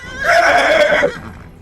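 A loud, drawn-out horse-like neigh serving as the battle cry of a horse-bodied, elf-faced minotaur creature in a fantasy tabletop skirmish, rising sharply and holding for about a second before trailing off.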